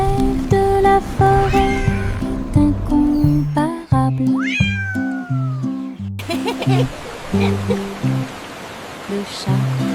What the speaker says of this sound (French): Le chat se glissait entre les vignes vertes pour trouver la scène du palais dans la forêt.